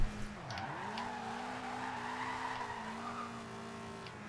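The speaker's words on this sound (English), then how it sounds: "Let's see if we can slide it around in second gear." A drift-built Toyota Celica GT in Forza Horizon 2 slides in second gear, its tires squealing in a long, wavering sustained screech over the droning engine, loud and continuous before easing slightly near the end.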